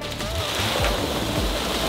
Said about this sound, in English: I feel like that's a nice layer of packing peanuts there